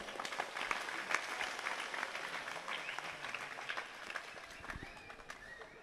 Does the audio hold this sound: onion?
no